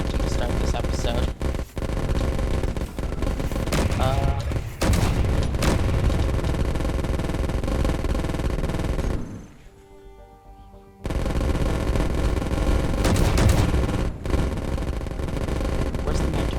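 Assault cannons in the space-building game Space Engineers fire in loud, rapid bursts of heavy gunfire, with a brief lull partway through before the barrage resumes, and a voice speaks over it.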